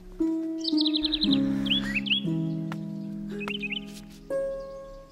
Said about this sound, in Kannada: ಹಕ್ಕಿಗಳ ಕಲರವ ಕೇಳಿಸ್ದಾಗೆಲ್ಲ